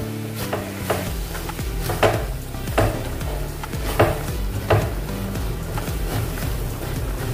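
Amchur powder being stirred into aloo palak in a pan, with a spoon scraping and clinking in steady repeated strokes over a soft background sizzle.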